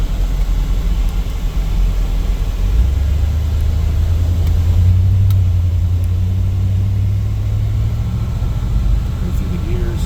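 A restored 1989 Jeep Grand Wagoneer being driven: a steady, loud low engine rumble with road noise that rises slightly midway as it pulls along, heard from inside the vehicle.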